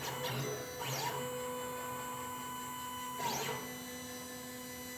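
A Langmuir Crossfire CNC plasma cutting table traces its path in a dry run without cutting, its stepper motors whining in rising and falling sweeps over a steady mains hum.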